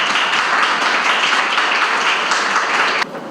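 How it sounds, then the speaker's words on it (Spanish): A large audience at a linguistics lecture applauds steadily with dense, continuous clapping that cuts off abruptly near the end. "a don Juan Carlos Vergara Silva para que solicite un largo aplauso"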